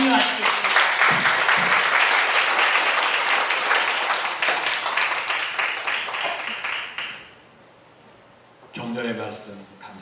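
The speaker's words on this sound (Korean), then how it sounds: "그러한 목사님이 되기 위해서 우리 박수로 격려하시겠습니다" Congregation applause at a church installation service for a revivalist association president, a long loud round of clapping that tapers and stops abruptly, followed by a pause and then a voice speaking.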